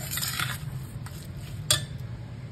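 A spoon clinks and scrapes in a pot while cooked dal and jaggery are stirred together, with soft metallic taps and one sharper clink, close and fairly quiet.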